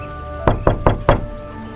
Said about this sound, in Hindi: अचानक दरवाजे पर दस्तक होती है।